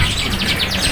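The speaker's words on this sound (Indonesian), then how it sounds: "Burung." Caged birds at a bird market in Gisting give quick repeated chirps in a fast rhythmic series, close and fairly loud over steady background noise.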